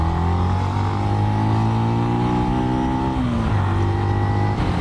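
A Benelli BN 125 motorcycle engine revs up steadily with rising harmonic whine, a brief dip around a gear shift, then climbs again, loud and close throughout.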